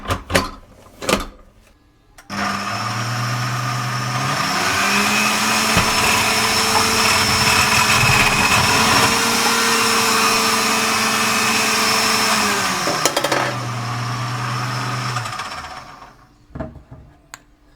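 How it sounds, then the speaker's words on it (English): An electric food processor chops potatoes into tiny chunks, a loud continuous whirring motor that rises in pitch as the load eases and drops back before stopping, framed by clunks from handling the machine. "So I'm gonna put them in a food processor. I'm gonna slice them into tiny chunks"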